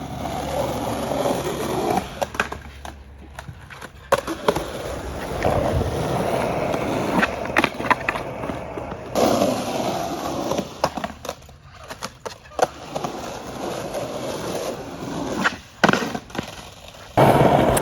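A skateboard rolls across an airport floor with a steady rumble of wheels, broken by irregular clacks and thuds from tricks and landings. The sounds are close and uneven, with brief quieter gaps.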